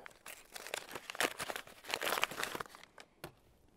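Brown paper wrapping on individually wrapped weights crinkles and tears as a mace box is unboxed, a quick series of close, crisp rustles and crunches at a soft level.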